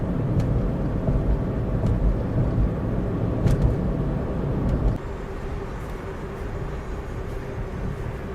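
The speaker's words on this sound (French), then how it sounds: "il y a de la circulation qui vient par l'arrière" Traffic closing in from behind on a 2012 Mitsubishi i-MiEV makes a steady loud rumbling roar that swells and then eases, heard from inside the car.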